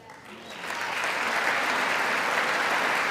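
Audience applause fills a large chamber during Trump's speech to Congress, rising quickly from a thin start into a steady, dense wash of clapping that holds loud and even throughout.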